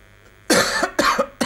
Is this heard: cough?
yes